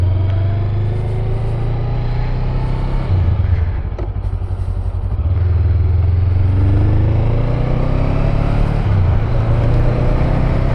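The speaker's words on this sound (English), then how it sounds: "You're unloading a motorcycle." A Honda Rebel 500 motorcycle engine idles loudly and steadily nearby, with a dip and clatter midway as the bike is shifted and handled while being unloaded.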